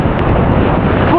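Surf at a Boracay beach in gloomy, rainy weather rushes loud and close, churning water and heavy wind buffeting the microphone in one brief steady burst.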